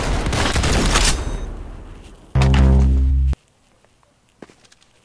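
Gunfire from a Roblox Arsenal match: a dense rattling burst of rapid shots fading over a couple of seconds, then a single heavy blast, followed by near silence with faint clicks and a sharp hit at the very end.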